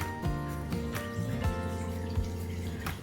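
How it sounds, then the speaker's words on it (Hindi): Water is squeezed by hand out of grated radish wrapped in a cloth, giving soft wet drips and trickles with a few squelchy pulses. It is close and fairly quiet, with no speech. "इसको स्क्वीज करके इसका सारा का सारा पानी हम निकाल देंगे।"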